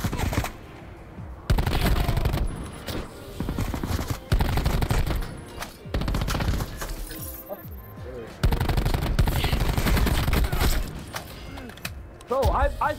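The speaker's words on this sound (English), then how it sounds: "Bro, I swear, bro, I put like 20 bullets to him." Rapid automatic gunfire in a fast-paced online shooter game, with long dense bursts of shots repeating across the stretch, loud and close, broken by short pauses and mixed with mechanical clatter.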